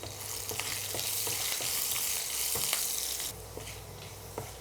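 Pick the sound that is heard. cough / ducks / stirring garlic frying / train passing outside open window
stirring garlic frying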